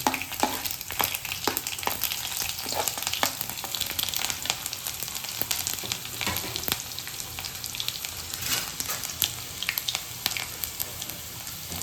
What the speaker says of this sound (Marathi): तेल पण तापलंय आपलं. तर आपण याच्यात टाकतोय मोहरी, टाकतोय त्यानंतर आपण जिरे टाकणार आहे थोडे. त्यानंतर आपण टाकणार आहे त्यात लसूण टाकणार आहे.